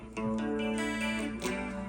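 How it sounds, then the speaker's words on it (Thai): A sustained electric guitar chord rings out with a shimmering, doubled chorus texture from a Boss ME-25 multi-effects unit, restruck a couple of times, with no talking. "ก็มีเสียงนี้คอรัส"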